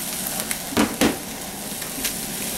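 Velveeta is stirred into drained, browned hamburger in a pan on low heat: a steady close sizzle with a few scraping spoon strokes, no voices.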